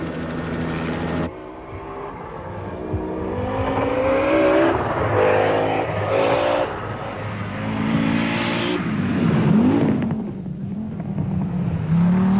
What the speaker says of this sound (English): The superb form of the Audi Quattro, driven by Sarah van der Merwe, continued to dominate the early stages